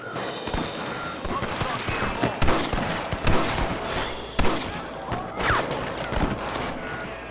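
Gunfire from a shootout with rustler guards in Red Dead Redemption on Nintendo Switch: repeated sharp shots and bursts in an irregular rhythm, loud and close, with shouting voices mixed in.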